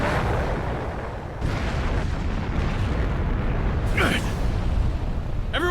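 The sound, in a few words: detonating clay explosion in the video game Naruto Shippuden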